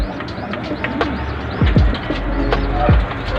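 Several racing pigeons coo close by, soft throaty calls repeating in overlapping bursts, with a few faint chirps in the background.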